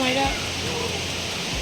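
Rain falls at Ponmudi as a dense, steady hiss close by, while a voice speaks briefly over it.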